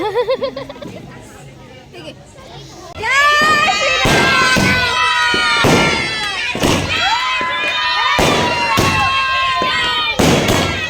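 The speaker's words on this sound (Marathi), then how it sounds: "ते फटाके फोडले त्यांनी आणि ते सर्व नारे सुरू होते सर्वांचे." Firecrackers burst in a neighbourhood street outside a house during a Ram temple consecration celebration: loud, sharp bangs repeat every second or two over a crowd chanting and shouting slogans.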